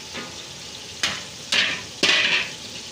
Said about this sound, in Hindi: अभी हम घी में प्याज डालेंगे 1 किलो। घी हमारा गर्म हो चुका है।